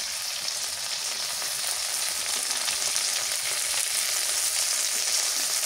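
Green chili paste hits foaming hot oil and sizzles loudly in a dense, constant hiss that holds steady for several seconds, close and alone with no voices.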